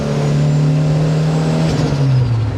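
Subaru GT Turbo tuned to around 600 hp accelerating hard, a loud close engine drone that climbs steadily in pitch and holds without a break for nearly three seconds, then drops sharply at the end.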